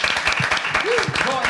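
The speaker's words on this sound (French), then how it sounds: "on va applaudir par contre" Audience applause on a French live web show, a brief burst of steady clapping under louder overlapping voices for about a second and a half.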